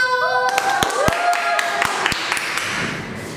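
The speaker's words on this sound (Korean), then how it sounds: "우리 박수!" A small audience gives sparse, sharp individual claps, about a dozen distinct hand strikes spread unevenly, following a brief tonal sound at the start.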